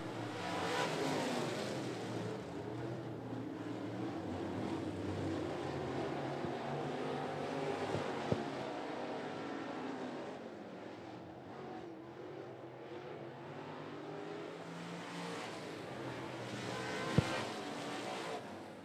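Race cars roaring around the oval during a heat race at 411 Speedway, a continuous blend of distant engine drone and revving that swells and fades, with a couple of sharp knocks and no voices.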